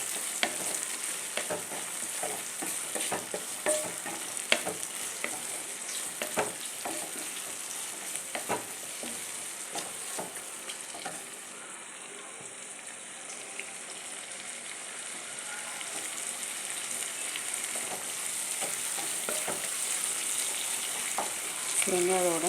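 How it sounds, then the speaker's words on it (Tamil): Garlic, onion and tomato fry in a pan for a prawn and ridge gourd gravy, a steady close sizzle that runs throughout, broken by occasional scraping stirs, with no voices. "வெங்காயத்தோடு நல்லா வதங்கி வரட்டும்"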